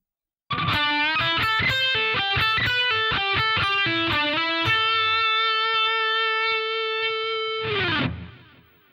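A distorted electric guitar runs through a fast string of picked and bent notes, then holds a long sustained bent note before a brief final flourish and fade; prominent, solo, with no voices.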